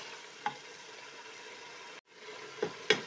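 Lamb (dumba) meat frying in a karahi after about ten minutes of cooking, a quiet steady sizzle broken by a few sharp metallic clinks of stirring near the end.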